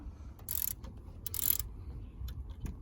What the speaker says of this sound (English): Bottom one is easier to fit a 13 millimeter ratchet wrench.